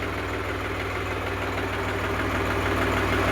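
A 2015 New Holland 3600-2 tractor with double clutch and power steering idles close by, its engine giving a steady, even low-pitched chug that holds throughout with no talk.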